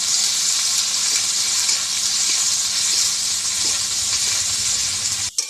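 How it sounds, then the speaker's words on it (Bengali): Chopped onions with a little salt frying in a pan, a steady close sizzle and hiss that continues evenly with no talk, ending in a brief clatter. "পেঁয়াজের মধ্যে সামান্য লবণ দিয়ে পেঁয়াজটা আমি লাল লাল করে ভেজে নেব"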